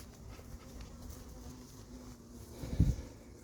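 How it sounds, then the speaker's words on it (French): A hornet hunts among honeybees at an apiary hive, a faint continuous insect buzz drone with a brief louder thump near the end, and no talk. "il y a un frelon qui est rentré tout en haut là."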